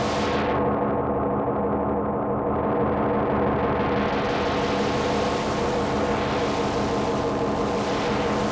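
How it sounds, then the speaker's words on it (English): A dense, sustained distorted electronic tone from a SikTone Space Invader reactive distortion effect, buzzing and grinding evenly with a swelling hiss in the upper range as it shifts. "It's a very cool reactive kind of distortion."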